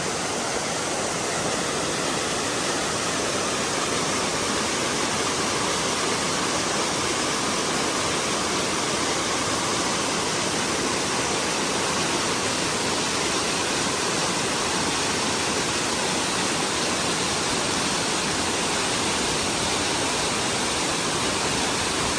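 A waterfall on Kauai, heard as a loud, steady, broadband roar of falling water that carries on without a break from start to end, close by, with no talk over it.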